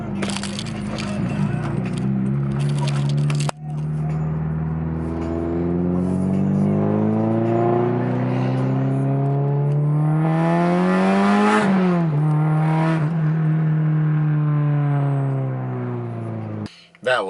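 A straight-piped Honda engine revs up steadily with a rising, loud howl that climbs sharply as VTEC engages, then drops back, heard close in a car with no speech.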